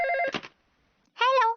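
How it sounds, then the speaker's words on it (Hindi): Cartoon telephone ringing in a Shinchan episode: two loud electronic trill bursts separated by a short pause, clean and alone with no talking. "फोन बज रहा है।"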